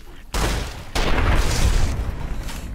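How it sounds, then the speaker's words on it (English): Gunfire from a wide-spread gun aimed at a gecko in Fallout New Vegas, two loud, booming blasts about half a second apart, each with a rumbling tail over a steady game background. "A gun with the biggest spread and I kind of shoot a gecko that's right in front of us."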